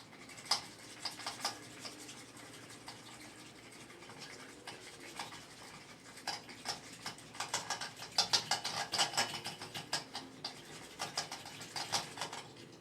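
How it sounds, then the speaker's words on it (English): Push-down spinning whisk mixing salad dressing, a fast, light rattling and clicking in uneven bursts that grow denser toward the end, close by and fairly quiet, with no talking. "These new whisks are so cool. You just push them down and they spin."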